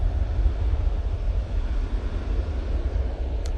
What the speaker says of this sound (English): Ryanair is off to Rabat.